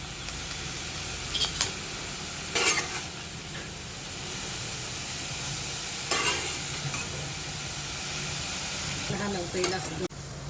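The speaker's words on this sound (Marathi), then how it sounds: "आता हा कोबी फोडणीला घेऊया आपण" Shredded cabbage frying in a hot oil tempering, a continuous loud hiss and crackle close by, with a few louder scraping stirs of the spoon spread through it and no talking.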